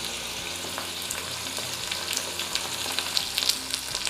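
Steady crackling sizzle of spices, dried red chillies and curry leaves frying in hot oil for a sambar tempering, close and continuous, with sharper pops now and then and no talking.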